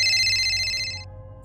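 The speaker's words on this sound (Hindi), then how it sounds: "फोन की रिंग को सुनकर मैं थोड़ा सा चौंक गया।" A telephone rings as a sound effect in a Hindi horror story, a bright electronic ringtone that repeats quickly before cutting off abruptly. It is heard alone over a low hum.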